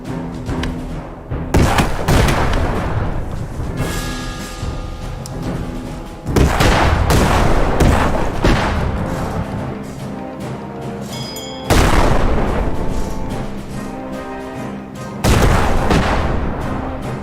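Cannon fire in a naval battle in the game Extreme Meatpunks Forever, with repeated heavy booms and barrages that swell into dense, loud bursts every few seconds over a rumbling backdrop, no talk.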